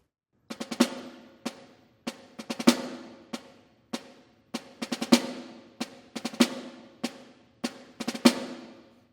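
Snare drum playing open four-stroke ruffs at a slower tempo, crisp bursts of quick strokes each landing on an accented note, repeating in a steady pattern with short gaps, close and clear with no talking.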